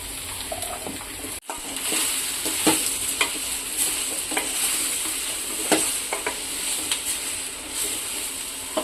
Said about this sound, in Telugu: ఇవైతే ఫ్రై అయినాయి కదండి ఇప్పుడైతే సొరకాయ ముక్కలు అయితే వేసుకుంటాము